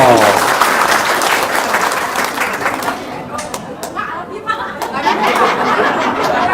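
A burst of enthusiastic applause from a small group, hands clapping rapidly and loudly, thinning out midway before swelling again, with some chatter mixed in.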